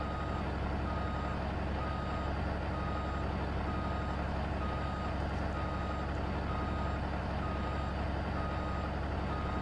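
A truck reversing in a video game sounds its backup alarm, steady evenly spaced beeps over a constant loud engine drone, with no talking.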